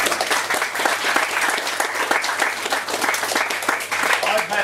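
Audience applause after one-act theatre premieres, loud sustained clapping from a full house filling the room evenly throughout, with no speech over it.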